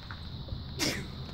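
A single short sneeze indoors at a butterfly greenhouse, a sharp burst in the middle of a quiet, steady room background, no talking around it.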